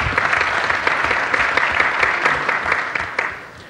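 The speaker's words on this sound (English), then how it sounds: "Give them a round of applause." Loud, sustained applause from a conference audience greeting a speed-debate team, dense clapping filling the room at close range and tapering slightly toward the end, with no voices over it.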